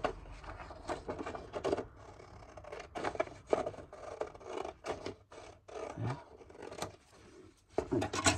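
A paper card is cut with quiet, close snipping and rasping strokes in short irregular bursts, faint and crisp against a hushed background.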